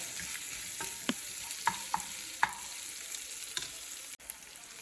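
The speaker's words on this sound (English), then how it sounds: "just stir it together and let it get the green onion flavor" Green onions being stirred into a caramelized, sizzling breakfast bowl in a hot pan, with soft steady frying and several distinct scrapes of the utensil against the pan.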